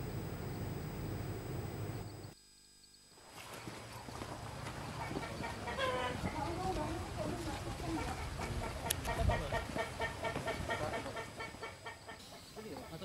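Roosters kept for illegal cockfighting at a gambling site raided by police in Yogyakarta, Indonesia, clucking and calling amid busy outdoor commotion, with a brief dropout near the start and a voice-like murmur underneath.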